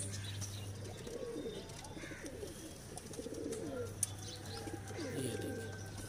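Pigeons coo softly in repeated low, throaty phrases nearby, with faint chirps and a steady background hum.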